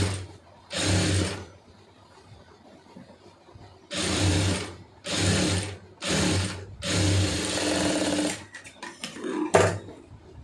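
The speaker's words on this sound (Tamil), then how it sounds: "இப்போ இதில் வந்து தையல் போட்டுருங்க ஒரே மாதிரி தையல் போட்டுருங்க" A sewing machine stitches sleeve and lining pieces together in short, loud bursts of rapid stitching separated by quiet pauses, with faint clicks of handling between runs.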